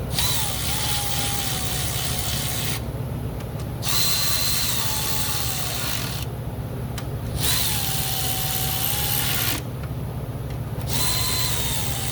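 A power tool drives spark plugs snug on a Ford Transit T-250's 3.7 engine, three bursts of whirring, each followed by a short pause with some mechanical rattling.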